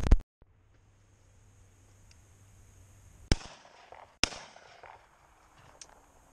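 A shotgun firing both barrels while out rabbit and pigeon shooting, two loud outdoor blasts about a second apart, each followed by a fading echo against a quiet field.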